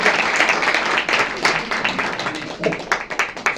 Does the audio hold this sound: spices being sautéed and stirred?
no